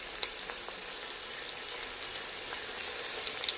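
Green chillies and garlic sauté in hot oil in a pan for a pomfret fish curry, giving a soft, steady sizzle with a few faint clicks of stirring.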